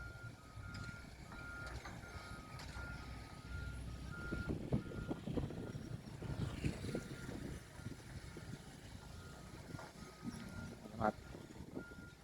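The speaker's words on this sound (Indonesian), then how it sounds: "Sebuah truk tonton dengan sebuah truk dam kecil langsung melakukan aktivitas bongkar material tanah uruk di sekitar Dusun Cangkring." A small dump truck reverses and unloads earth fill at a toll road construction site near a village, its reversing beeper pulsing steadily over rumbling engine noise and wind, with voices talking intermittently throughout.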